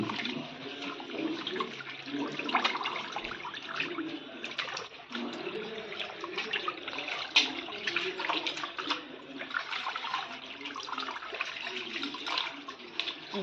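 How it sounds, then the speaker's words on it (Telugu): Chopped goat tripe is rinsed under running water, with a steady close splashing and trickling stream and small shifting sloshes throughout, no voices. "దీన్ని కడుక్కొని దీంట్లో ఉప్పు పసుపు వేసి ఉడకబెట్టుకోవాలి"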